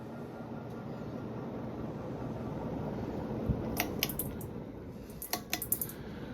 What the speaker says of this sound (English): beside the bearing noise, pretty smooth running fan